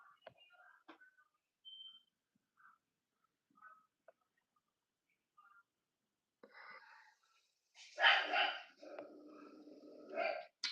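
Dog barking excitedly indoors at a black cat out front, a burst of loud close barks near the end after quiet moments with faint sounds.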